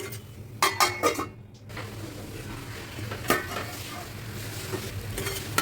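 Tomatoes cook down in a pan for egg cubes curry, with a few utensil clinks and scrapes against the pot early on, then a soft, steady sizzle and occasional stirring.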